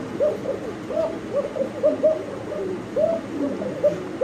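A lively pair of pigeons at a pigeon market coo in repeated soft, rounded calls at a steady pace, close and clear, with no talking.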